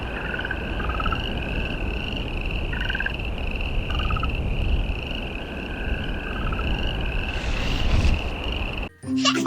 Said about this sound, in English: Oh, this one is a frog.